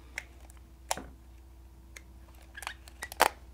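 A Pentax K1000 film camera fires its shutter in a handful of sharp, close mechanical clicks spaced irregularly, with the last clicks coming close together, against a quiet room.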